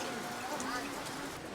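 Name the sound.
rain falling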